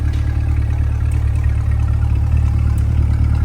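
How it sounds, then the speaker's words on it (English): Exhaust of a 2020 Chevrolet Corvette 3LT Coupe Z51 idling, a loud steady low rumble with an even droning tone, close up and constant throughout. "listen to the exhaust idle here"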